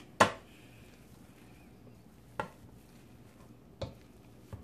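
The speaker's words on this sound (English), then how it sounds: "See how it's smashing up your potatoes?" A few soft thumps and squelches at irregular intervals, the first loudest, as a masher presses into a pot of hot potatoes, faint and close.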